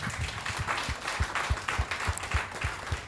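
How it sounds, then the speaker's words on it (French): A studio audience applauds itself at the close of a panel discussion on couples, with many hands clapping in a steady, slightly rhythmic patter for a few seconds. "je vais vous prier déjà d'applaudir très fort pour vous-même, cher public"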